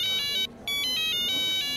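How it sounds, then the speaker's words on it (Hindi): A telephone ringtone sounds while someone calls a lawyer: two bright, repeating electronic ring bursts separated by a short gap, with no talking. "मैं फोन करता हूँ वकील को जरा"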